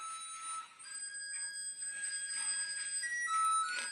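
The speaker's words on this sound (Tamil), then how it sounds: "சீரியல் லைட்டு பாடிட்டே லைட் அடிக்குது" Decorative musical serial lights play a thin, electronic beeping melody of sustained high tones, heard alone and fairly quiet indoors.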